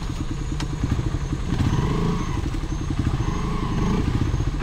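Motorcycles ride a rough trail on the Great Pacific Trail in Isabela, giving a close, thumping engine chug mixed with clattering and knocks over uneven ground.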